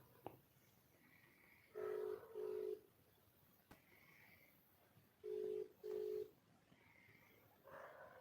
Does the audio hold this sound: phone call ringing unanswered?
yes